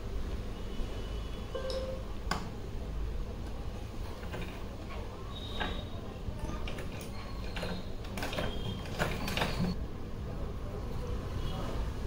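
Lace is sewn onto a small doll's outfit for a Laddu Gopal figure: quiet mechanical ticking and light creaks repeat steadily, close but faint, under a woman's speech.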